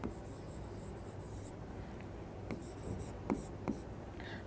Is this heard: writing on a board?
yes